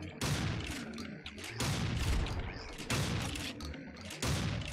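A slime enemy in the game Project Warlock lets off a shotgun effect: four heavy booming blasts, evenly spaced about a second apart, loud and close.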